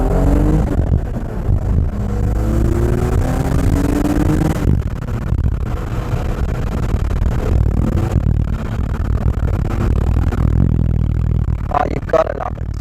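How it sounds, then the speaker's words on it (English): A BMW Z3 M Coupe in Imola red with an AC Schnitzer setup and naturally aspirated S54 engine revs loudly and steadily, its exhaust note rising and falling close by for the whole stretch, with brief voices faint underneath. "So let's give you a little bit more exhaust notes."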